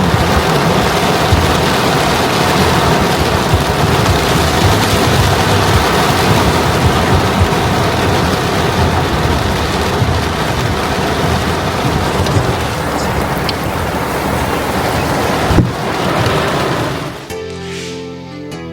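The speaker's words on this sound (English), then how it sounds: "Listen, pouring down with rain." Heavy rain pours down in a dense, steady roar, loud and close, before fading near the end with a brief clatter.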